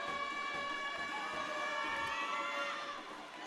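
A loud arena crowd at an ABA basketball championship game between the Austin Bats and Buffalo eXtreme, a sustained roar with a siren-like horn wailing steadily over it, fading slightly at the end.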